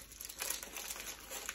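Crinkly wrapping, likely foil, being peeled back from a cooked dish on a Burns Night supper table before serving, a close, steady rustle with no talk.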